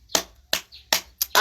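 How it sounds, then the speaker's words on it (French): Four sharp, separate hand claps at a slow, steady rhythm, close and fairly loud, heard at a public address where the audience is being urged to applaud. "Applaudissez. Il faut applaudir."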